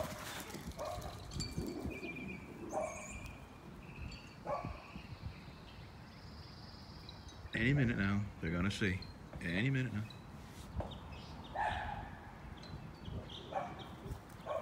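Dogs bark in a backyard by a fence, several short, sharp barks bunched together mid-clip, with someone talking casually before and around them.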